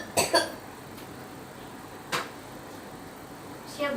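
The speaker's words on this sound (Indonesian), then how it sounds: "Batukkan, Bu." A woman coughs during a deep breathing and effective coughing exercise, two close, sharp coughs early on, then two more single coughs spaced apart, all near and clear over quiet room noise.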